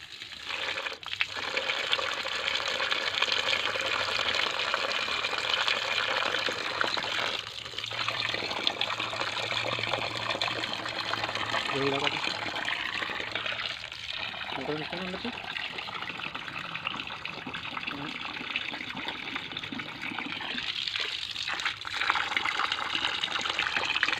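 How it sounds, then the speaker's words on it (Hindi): An air cooler motor used as a water pump sprays water with a strong, steady gushing rush that runs continuously, with a voice talking over it. "देखिए पानी फेंक रही है मोटर। देखिए बहुत ही ज़्यादा फोर्स दे रही है पानी"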